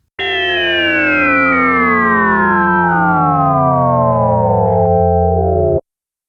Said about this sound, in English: You can hear the resonance stepping through the quantized semitones of the filter.